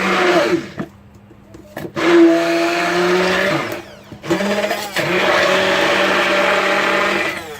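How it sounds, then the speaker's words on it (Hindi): A kitchen blender whirring through chutney with cumin and salt, loud close motor bursts that rise in pitch, briefly stop, then restart and run steadily. "अब मैं इसको अच्छे से ब्लेंड कर लूंगी।"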